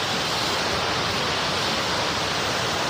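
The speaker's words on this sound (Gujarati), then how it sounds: "ઓલો એ ઓલો ધોધ જોઈ લ્યો પડવા માંડ્યો છે" Small waterfall after rain, a steady broadband rush of falling water that fills the whole stretch without pause, fairly loud and even, with no voices.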